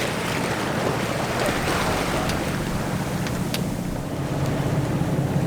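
A sailboat motoring under engine at about 5.5 to 6 knots off Moorea, with a steady broadband wash of water and waves along the hull, wind buffeting the microphone, and a faint engine drone underneath throughout.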